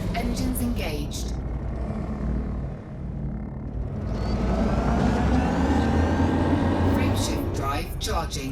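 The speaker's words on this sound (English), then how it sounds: "Released. Engines engaged." Spaceship engines engaging in the Elite Dangerous video game: a deep, steady rumble that swells and builds in loudness, with a synthetic voice announcing at the start and end.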